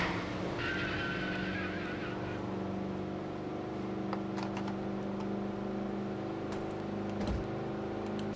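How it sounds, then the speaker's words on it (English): Race car engine in a racing video game, Charles Sanford's car at Talladega, droning steadily with a sustained low hum that holds throughout while a faint voice talks underneath. "the engine slowly dying on the Charles Sanford car"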